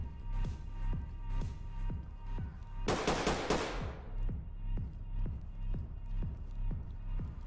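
Gunfire in the tactical shooter game Ready Or Not, a steady rhythmic stream of rapid shots with one louder, brighter burst partway through, set against continuous game noise.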